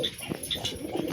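Baby pigeon cooing, soft repeated low coos in a steady run, close by and alone with no talk.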